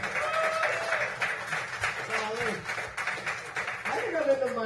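Comedy club audience applauding and cheering at the end of a stand-up set, a steady dense wash of clapping with crowd noise that sustains throughout, fairly loud and close.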